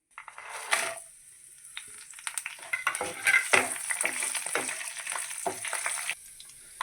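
Whole spices (cinnamon, cloves, star anise, cardamom, fennel, mace) frying in hot oil for pudina rice, a crackling sizzle with sharp pops and a few utensil clinks, close and lively, with no voices.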